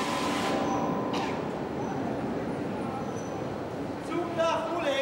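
A Berlin U-Bahn subway train arrives underground at Zoologischer Garten station, a steady broad rumble with faint squeals and clatter of cars, and a brief metallic screech near the end.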